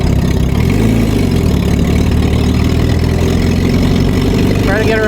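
A WWII Jeep engine runs in second gear, a steady loud mid-low drone with a continuous rumble that holds throughout, and speech is faintly present beneath it.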